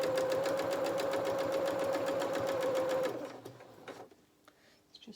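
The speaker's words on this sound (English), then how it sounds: "So we're going to put our fabric into our machine" Sewing machine stitching a fabric seam, a fast steady mechanical whirr with a rhythmic needle pulse and a faint whine, running close for about three seconds before stopping, followed by quiet handling sounds.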